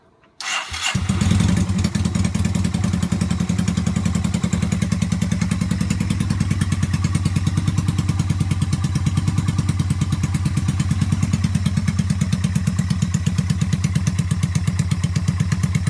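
A Yamaha SRV250 motorcycle engine, not idling on both cylinders, kicks into life and settles into a loud, steady, rhythmic idle that chugs on without a break.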